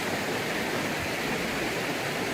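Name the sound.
mountain stream flowing near Iravangalar Dam, Megamalai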